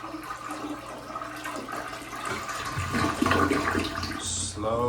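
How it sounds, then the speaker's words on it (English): A home toilet flushes slowly with a long gurgling rush of water, then begins refilling with a rising hiss, heard close in a small bathroom. "Slow flush, but I do get a full flush and it is refilling."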